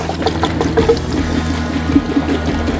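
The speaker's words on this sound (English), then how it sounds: "Let's top off washer fluid, and we make the pour." Washer fluid glugs and trickles steadily into the reservoir of a 2017 Honda Odyssey, with a continuous close pour and small bubbling gurgles throughout.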